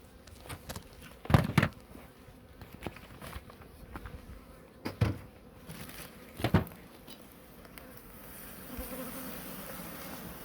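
Honeybees buzz softly at close range at an opened hive, a low steady drone broken by a few sharp knocks and bumps.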